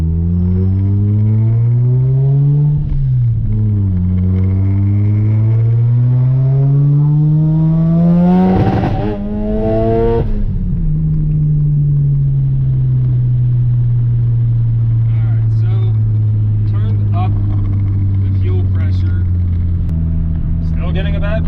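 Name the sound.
Mazda FD RX-7 engine breaking up under driving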